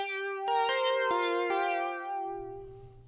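A retro bell synth patch built in Serum with a slowed LFO 2 rate rings out in a few bright struck notes that sustain and decay smoothly, with a faint low buzz at the tail, no voices.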